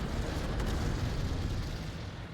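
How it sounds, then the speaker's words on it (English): Artillery shells exploding around a Panzer IV tank in a World War II strategy game, a continuous low, muffled rumbling roar of blasts at a distance, fairly faint and without talk. "Oh, Panzer 4 is getting shelled."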